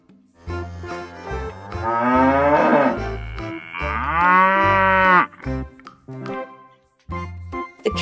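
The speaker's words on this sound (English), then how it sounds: "Here come the cattle." Cattle moo loudly and close by, two long drawn-out bellows followed by shorter lowing calls.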